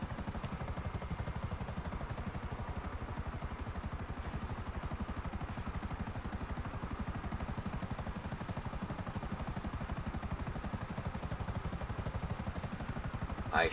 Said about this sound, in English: I shot a helicopter out of the sky.